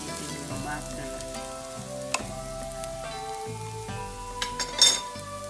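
Garlic butter and oil sizzle steadily in a pan on the stove, a constant close frying hiss with tonal music underneath and a few utensil clinks near the end.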